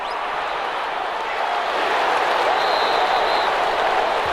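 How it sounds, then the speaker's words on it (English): A stadium crowd at a Florida vs. Georgia football game applauds and cheers the defense, a broad, dense wash of noise that swells slightly and holds steady, fairly loud, with no voices standing out. "How about some applause for the defense there?"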